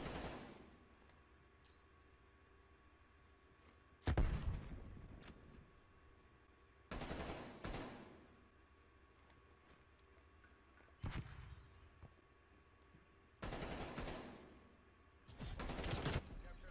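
Bursts of gunfire from a Call of Duty match crack out in several separate volleys, each a second or so long, over quiet game ambience, with players chatting between them.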